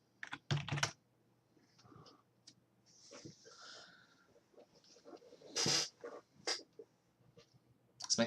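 Clicky keystrokes on a computer keyboard come in irregular runs and bursts, with some sharper louder taps standing out against a quiet room background.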